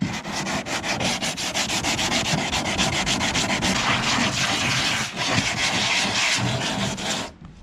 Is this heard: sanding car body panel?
yes